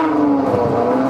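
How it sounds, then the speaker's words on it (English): The Apollo IE supercar's 6.3-liter Ferrari V12, from the F12 Berlinetta with a 9,000 RPM redline, gives a loud, steady high-pitched engine howl in one brief close burst. "the sound of this car is just incredible"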